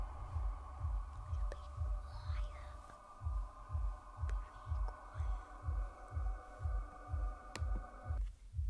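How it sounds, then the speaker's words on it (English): NASA space recording known as the Song of Earth: a low, steady pulsing throb repeating about twice per second under a faint droning hum, eerie and continuous until it cuts off near the end. "Sound of the Song of Earth"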